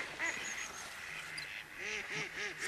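Ducks on the bank of the River Severn give a run of excited nasal quacks, several birds calling over one another at moderate distance against a soft outdoor background.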